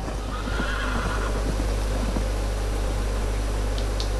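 Horse in the Red Dead Redemption video game neighing amid a dense, steady game soundscape, with faint clip-clop of hooves beneath; no talking.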